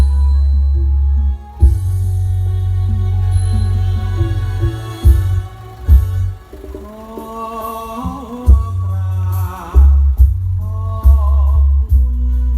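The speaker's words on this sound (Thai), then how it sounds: "อันนี้เสียงเบสหน้ารถ คร" Loud, thick bass from a 12-inch car subwoofer box playing Thai luk thung music, heard at the front of the car, low notes droning and thumping with melodic tones riding above.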